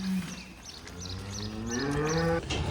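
Cattle in a pen during vaccination low repeatedly, a long rising moo swelling over the middle and end, close and fairly loud, with faint clanking and farmyard noise behind.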